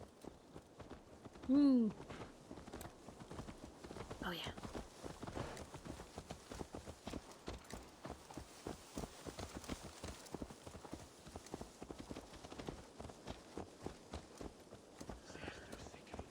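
Steady clip-clop of horse hooves walking in a video game, with an even rhythm that continues throughout. A voice murmurs briefly over the hooves.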